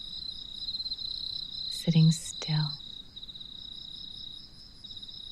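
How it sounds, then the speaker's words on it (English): Crickets chirping steadily in a high, continuous trill throughout, while a soft voice speaks briefly in a near whisper partway through. "Just letting the sound of the crickets lead you back here"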